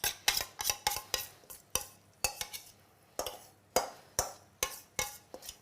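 Pumpkin with onion and spices is stirred in a pan, a utensil scraping and knocking against the pan in quick, irregular strokes with faint sizzling between them, close up and without talk.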